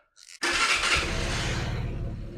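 A SYM NHX 125 scooter engine cranks briefly, then catches and settles into a steady, throaty idle close by, with no talking.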